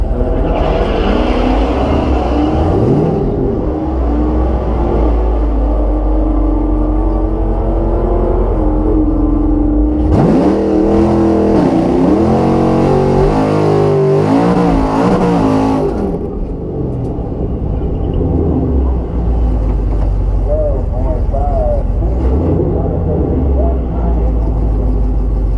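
8-speed Chevrolet Camaro SS on a drag strip launching and accelerating hard, engine revs rising through gear changes in a loud burst mid-clip, with a voice talking over the quieter stretches.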